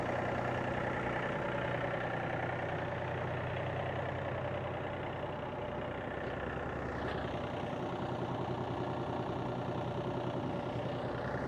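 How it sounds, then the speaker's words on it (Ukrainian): A Yanmar AF350 compact tractor engine idles steadily with an even, continuous rumble and a slight rattle, close by and with no voices. "І ви зможете оцінити звук тракторця вже в роботі."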